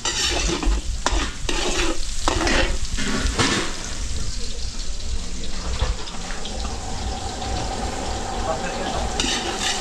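Garlic and onion sautéing in a large catering pan at a fiesta, a loud, dense sizzle broken by repeated scraping stirs, with running water in the background.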